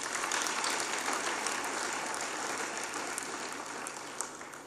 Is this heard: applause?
yes